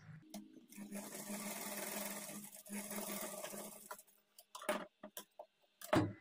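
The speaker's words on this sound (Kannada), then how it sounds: "ಇನ್ನೊಂದು ಕಡೆನೂ ಸಹ ಇದೇ ಥರ ಇಟ್ಕೊಂಡು 1/2 ಇಂಚ್ ಮಾರ್ಜಿನ್ಗೆ ಸ್ಟಿಚ್ ಮಾಡ್ಕೊಳ್ಬೇಕು" Sewing machine stitching a blouse seam at a half-inch margin, a steady whirring run for about four seconds, then a few short separate bursts of motor noise with small clicks, close by with no voices.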